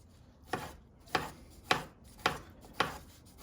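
A knife dices cucumber on a cutting board in six crisp, evenly spaced chops, each one a close, sharp knock with quiet gaps between the strokes.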